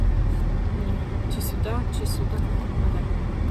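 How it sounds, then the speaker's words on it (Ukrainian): A bus rolls past on a frosty winter evening, its low engine and road rumble droning steadily throughout while someone talks close by. "автобус, я не знаю, чуєте ви щось чи ні"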